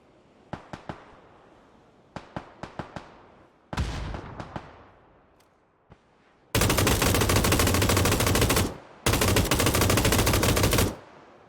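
Automatic gunfire in the PUBG console battle royale game: short clusters of sharp shots, then a heavier burst, and finally two long, loud sustained volleys that fill the clip, with no talk over them.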